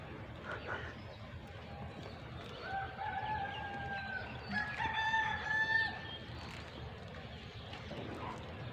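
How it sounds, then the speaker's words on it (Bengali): Large hens and chickens out in the open, with drawn-out rooster-like crowing calls and some clucking in the middle of the clip over a steady noisy background, while people talk nearby. "এগুলি বড় বড় মুরগি ঢুকছে"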